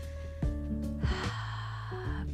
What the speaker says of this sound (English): Taking a few deep breaths here.